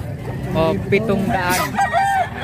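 A Batangas rooster crowing at close range, a loud, drawn-out cock-a-doodle-doo with a few clucks around it, while people talk nearby.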